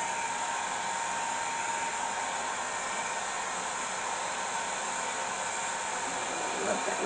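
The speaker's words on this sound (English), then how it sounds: "I'm just going to throw in a little bit of heat here so I can pop some more of these cells" A heat gun blows hot air over an acrylic pour painting to pop cells, giving a steady, close whooshing hiss that holds at an even level throughout with no breaks.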